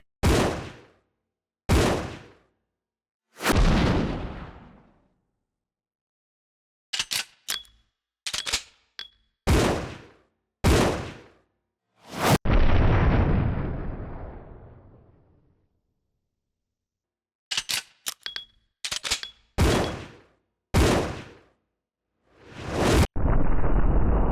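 Billy fires the ultimate weapon in Resident Evil Zero: a series of loud, booming shots spaced irregularly, each with a long fading tail. One heavier blast rumbles on for several seconds midway.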